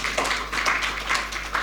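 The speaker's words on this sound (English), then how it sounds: "Can we clap for us?" An audience at a hotel professionals' association meeting in Kenya claps together, a brief burst of rhythmic applause at moderate volume.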